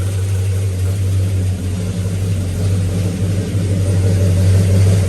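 The exhaust of a running Pontiac GTO rumbles close by in a deep, steady idle with a slight uneven lope, loud and continuous throughout, with no talking.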